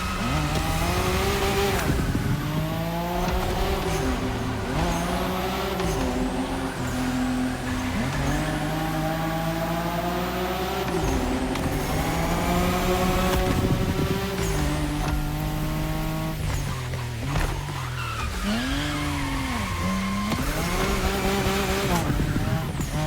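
Racing game cars, Nissan Skyline GTRs, drift through corners with engines revving up and down in sweeping pitch and tires squealing, loud and continuous over a bed of game music and sound effects.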